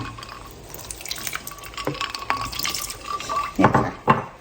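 Water poured from a container into a bowl of cornstarch for bouncy fish-ball batter, a light splashing trickle with soft drips that grows busier and louder toward the end, heard close with no talking.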